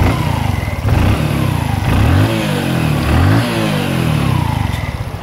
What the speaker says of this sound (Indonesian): Dan saya coba geber.